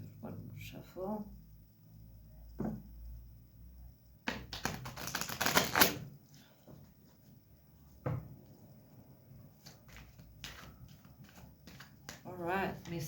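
Cards are riffled and shuffled in a few quick bursts of crisp flapping and tapping, with soft talking in between.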